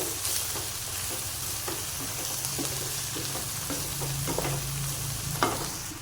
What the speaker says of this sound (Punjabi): ਉਹਨੂੰ ਚੰਗੀ ਤਰ੍ਹਾਂ ਹਿਲਾ ਲਾਂਗੇ ਮਿਕਸ ਕਰ ਦਾਂਗੇ